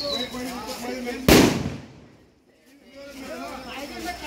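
Firecracker set off in a street celebration of India's T20 World Cup win: one sharp, loud bang that rings out and fades over a second or two, with crowd chatter and voices heard before and after.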